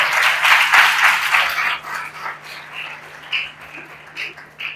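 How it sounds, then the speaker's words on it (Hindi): A church audience gives a girl a burst of applause, a dense clapping that fades out after about two seconds into scattered claps and faint room noise. "बेटी के लिए भरपूर ताली।"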